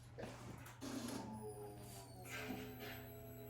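A newly installed fuel pump on a Suzuki GSX-R 600 motorcycle priming, a faint steady electric hum and whir with a low drone underneath, heard alone at low level.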